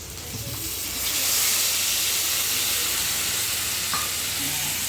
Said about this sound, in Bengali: এখানে মশলা ধোয়ার জলটা দিয়ে দেবো।